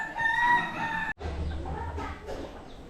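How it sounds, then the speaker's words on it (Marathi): A chicken crowing in a Konkan village yard, one drawn-out call close by that breaks off abruptly, followed by quieter background rumble and faint clucking. "हे बघा कोंबडी."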